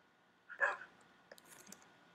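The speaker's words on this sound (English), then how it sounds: "Oh, look at my little doggy's bark." A small dog barks once, faint and distant in a video game, followed by a few soft clicks in a quiet background.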